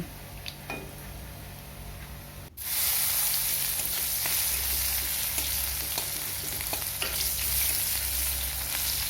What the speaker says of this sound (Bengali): কালো জিরেটা একটু ভেজে নিয়ে তার মধ্যে দিয়ে দিলাম পেঁয়াজ কুচি